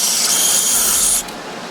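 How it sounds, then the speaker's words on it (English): Carb cleaner sprayed into the carburetor of a 1986 Polaris 250, around the throttle slide bore: a loud, steady aerosol hiss held close for over a second, then cut off, followed by a faint brief click. "Let's go ahead and just spray that out."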